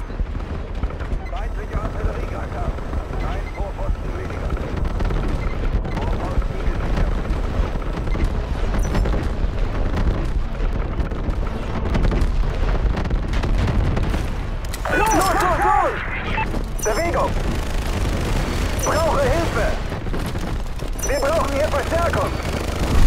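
Enemy artillery fire and explosions in Battlefield 2142, a loud, continuous low rumble of booms and blasts with scattered gunfire, under shouted voices that cut in several times.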